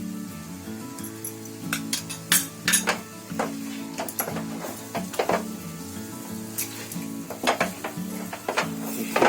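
Rice flour dough for modak stirred in ghee in a pan, with steady scraping and clinking of a spoon against metal over a soft sizzle, close and continuous with no voices.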